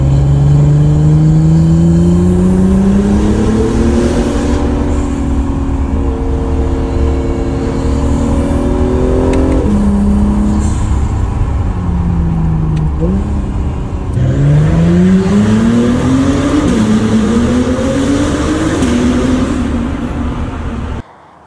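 Acura NSX NC1 with Science of Speed downpipes revs and accelerates hard close by, its loud engine and exhaust note climbing steadily through gear changes, dropping briefly between pulls before rising again.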